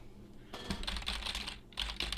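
Rapid keyboard typing up close, clattering in dense bursts with a brief pause midway, no voices.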